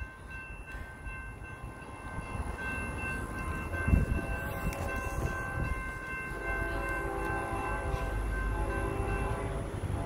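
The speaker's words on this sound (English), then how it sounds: "Here comes the train, people." A KCS manifest freight train rumbles past with a steady low roar and sustained horn-like tones, growing slightly louder toward the end.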